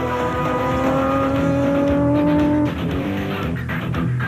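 A Team Ford Racing Ranger race truck drives in the Toyota 1000 off-road desert race in 2004, its engine a loud, steady drone with strong harmonics, then dropping in pitch and roughening as it passes.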